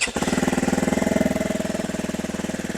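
A 2026 Zongshen RX3 motorcycle with EFI idles close by with a loud, throbbing, rapid-pulsed roar that holds steady throughout.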